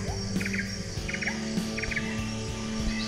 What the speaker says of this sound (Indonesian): Suara hutan, burung, lempiau.